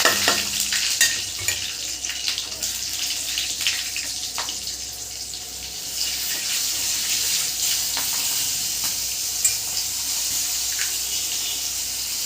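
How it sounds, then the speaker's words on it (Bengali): Nigella seeds and green chilies sizzle in hot oil in a pan where small fish were just fried, a steady close crackling hiss with brief spits and pops throughout, no voices. "তেলটা গরম হয়ে গেছে আমি কালো জিরে আর কাঁচা লঙ্কা দিয়ে দেবো"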